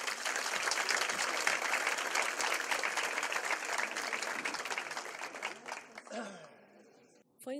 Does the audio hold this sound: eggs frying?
no